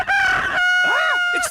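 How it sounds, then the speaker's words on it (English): A cartoon cockerel on an elf farm crows loudly in one long, clear cock-a-doodle-doo with a rising and falling middle, close and alone. "It's the cockerel from the elf farm."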